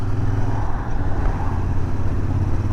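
Royal Enfield Interceptor 650 twin motorcycle riding through town, a steady close engine drone with low rumbling thump and wind rush, continuous and moderately loud without pause.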